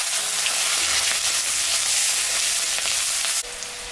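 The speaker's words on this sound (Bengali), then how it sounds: "পেঁয়াজটা এখন দিয়ে দিলাম" Onion added to hot oil holding a cumin and dried chilli tempering, frying with a loud, steady, close sizzle that drops abruptly to a quieter hiss near the end; no talk.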